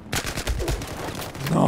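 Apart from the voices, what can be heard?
gunfire in video game Battlefield 4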